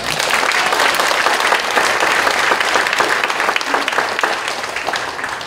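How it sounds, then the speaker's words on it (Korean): A church congregation claps in praise during the 65th-anniversary ordination thanksgiving service at Daegwang Church, Korea Evangelical Holiness Church, with loud, dense applause that sustains throughout and eases slightly at the end, with no speech. "하나님께 영광의 박수 올려드리겠습니다"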